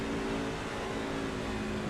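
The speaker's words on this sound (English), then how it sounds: "Ooh, that truck's coming." Racing truck engine in the iRacing sim at Atlanta, a steady, sustained drone of motor noise at even loudness for the whole stretch, swelling slightly at the very end as the truck comes closer.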